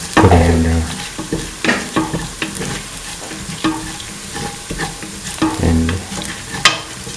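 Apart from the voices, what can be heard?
stirring ground coriander, fennel and red chillies in a pan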